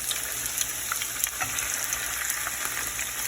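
Korean pancakes frying in a hot pan, a steady close sizzle and crackle of oil with small spits and pops running evenly throughout, no voices.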